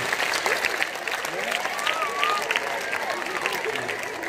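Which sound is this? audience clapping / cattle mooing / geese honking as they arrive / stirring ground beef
audience clapping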